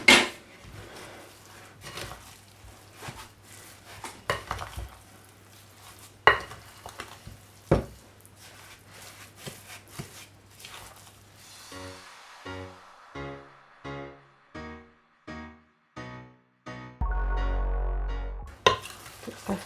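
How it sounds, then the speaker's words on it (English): Brown sugar being stirred into a vegan cassava pone mixture in a bowl, giving soft scraping and clattering strokes that turn into a run of regular, evenly spaced knocks near the end, with no talking. "now for us to mix this together"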